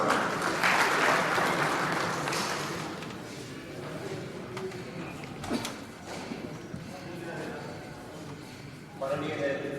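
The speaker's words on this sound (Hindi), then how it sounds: "जोरदार तालियों से स्वागत।" Audience applause welcoming a speaker at a formal district judiciary function, a steady moderate clapping that fades under a room-wide murmur before a voice resumes.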